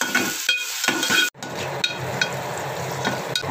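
Masala frying in a pan is stirred and mixed, a loud close sizzle broken by spoon scrapes and taps, with a brief pause partway through.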